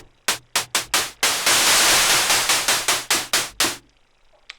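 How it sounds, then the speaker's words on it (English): Arturia MiniBrute 2S synthesizer noise source playing darker pink-style noise as hi-hat material: several short sharp bursts, then a long sustained hiss that pulses in a row of swells before stopping, loud and alone. "it seems that they've used some kind of pink noise or anything rather than actual white noise"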